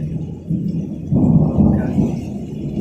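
Thunder rolls during a fierce storm with hail and lightning, a deep low rumble that swells midway and lingers, with no one talking.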